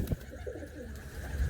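A black pigeon coos at a loft, giving a low, soft, continuous murmur at close range with no voices.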